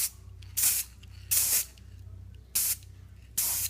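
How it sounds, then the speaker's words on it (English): Krylon Color Master primer sprays from an aerosol can in four short hissing bursts with quiet gaps between them, close and fairly loud while priming a Hot Wheels Project 4x4 Jeep truck. "We're going to use the Krylon Color Master Primer, and we're ready to start spraying it."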